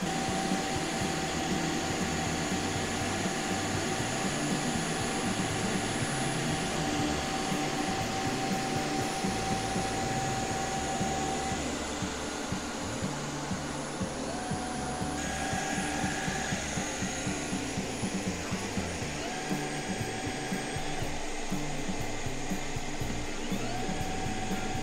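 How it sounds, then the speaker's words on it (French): A Tineco S6 Stretch cordless vacuum cleaner running its self-cleaning cycle drones steadily and loudly for the whole stretch, a constant motor whine with airy rush and no one talking. "vous avez le bruit d'un aspirateur quand même pendant 5 minutes"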